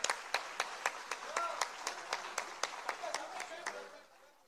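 Audience at a Mahavir International silver jubilee function in Mumbai breaks into applause for a woman leader, sharp rhythmic clapping near and fairly loud that thins out and fades by the end, with a voice briefly audible over it.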